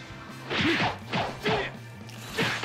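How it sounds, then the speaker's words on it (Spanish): Breaking crystals in the Dragon Ball Xenoverse 2 video game: four spaced smashing impacts with swishy attack sounds, each a loud, close burst separated by short gaps of game ambience. "Vamos a intentar romper por aquí cristales"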